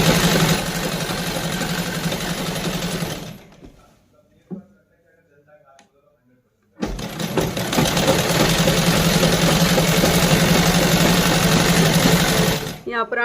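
A sewing machine stitches the seams of salwar fabric in two long, steady runs of fast mechanical whirring, separated by a few seconds of near silence.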